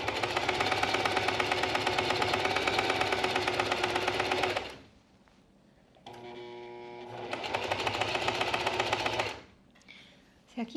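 A sewing machine stitches a mini skirt in two long bursts of rapid, even mechanical whirring, split by a pause of a couple of seconds with quieter handling sounds.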